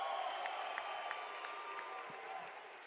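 A large esports crowd at the Call of Duty League Championship in Las Vegas applauds and cheers in a continuous wash of noise, heard at a distance and fairly subdued, tapering slightly toward the end.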